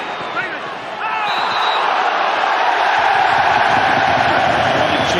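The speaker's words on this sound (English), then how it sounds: "cheers from the crowd" A stadium crowd roars and cheers during a 2004-05 Premier League football match between Blackburn Rovers and Manchester United. The dense, steady wash of noise swells after the first second and stays loud throughout.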